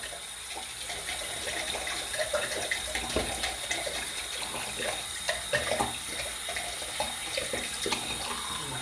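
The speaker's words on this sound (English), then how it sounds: "So, get the water running." Hot water pours steadily from a tap into a sink, a continuous splashing rush with small gurgles and clinks, close by and with no talking.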